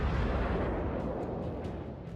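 Naval gunfire from a warship in World of Warships, a dense rumbling roar of heavy guns booming and echoing over open water, sustained and loud without a break.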